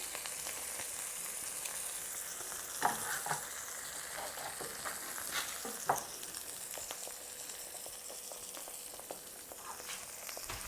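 Eggs frying in a pan beside sweetcorn fritters, a soft continuous sizzle and crackle with occasional sharper pops, fairly quiet and heard alone without talk.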